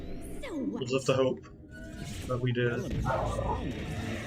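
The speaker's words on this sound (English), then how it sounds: "Sorry about the dog." A dog barks and yips in the background of a home gaming session, short bursts breaking out between stretches of a person talking over the game.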